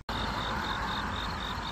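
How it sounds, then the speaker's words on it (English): Crickets chirp steadily in the morning outside an abandoned Pizza Hut in Wellsburg, West Virginia, a continuous close, even trill with a faint pulsing beat that runs through the whole stretch with no talking. "I like all the crickets I hear this morning."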